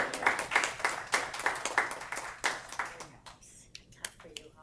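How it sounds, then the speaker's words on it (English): Scattered hand claps at a board meeting in an irregular burst, several people clapping together before tapering off into a few isolated claps. "I clap for you all. I clap for us."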